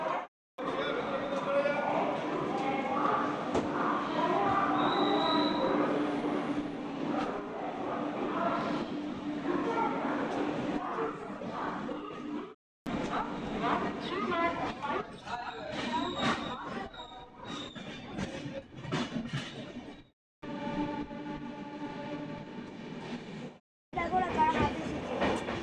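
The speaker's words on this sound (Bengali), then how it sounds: "ছেড়ে দিল আমাদের ট্রেন।" A passenger train leaving Bardhaman station rumbles along on the rails, a steady loud rolling clatter with a hum inside the coach, broken by several brief cuts, while people talk throughout.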